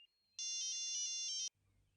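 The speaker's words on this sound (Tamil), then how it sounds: "ஃபோன் ரிங் ஆகி என் சந்தோஷத்தை கன்ஃபார்ம் பண்ணுது" A phone ringing with a bright electronic ringtone, one steady burst of about a second, loud and close, cut off abruptly and followed by near silence.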